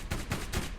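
A vehicle-mounted main gun in the video game Borderlands fires three sharp, punchy blasts in quick succession, each with a short crackling tail, fairly close and without any talk.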